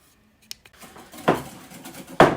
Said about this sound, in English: then we're just going to whisk that together